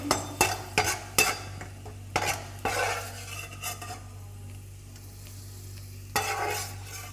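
Raisins fry in ghee in a pan while ghee rice is being cooked. A soft, steady sizzle runs under several sharp clinks and scrapes of a spoon stirring against the pan, with no talking.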